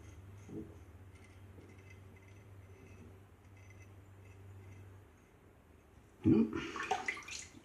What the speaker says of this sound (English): And rinse off, I tend to do in cold water